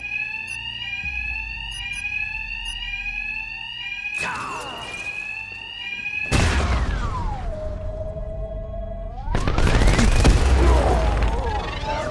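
Blaring alarms in the video game Batman: Arkham Knight, a repeating electronic siren with steady tones and pitch sweeps, joined by loud crashing bursts midway and near the end.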